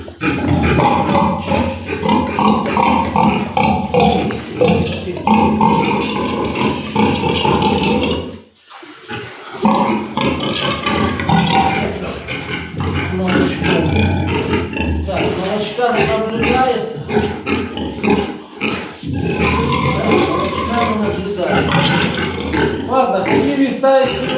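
A pregnant sow on a farm grunts and snorts almost continuously, loud and close, with dense rough noise and one brief pause near the middle.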